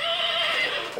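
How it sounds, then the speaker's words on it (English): A horse whinnies with a sustained high, wavering call lasting about a second, close and fairly loud, alone without talk. "Look at the horses."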